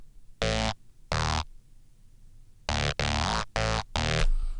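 Five sustained synth bass notes, heavily processed and gritty, played in separate bursts with short gaps and a pause after the first two.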